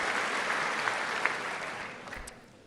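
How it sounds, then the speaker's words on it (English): Steady, dense applause from a large audience fills a chamber at a State of the Union address, holding level, then thinning and tapering off near the end without any speech. "That's who people are clapping for"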